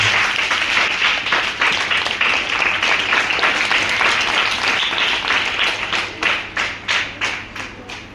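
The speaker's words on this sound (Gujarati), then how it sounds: "અને તાળીઓથી આપણે આ સ્વાગતને વધાવી દીધું" A school audience claps to welcome a guest at an event on drug abstinence and addiction, dense sustained applause that thins toward the end into distinct separate claps.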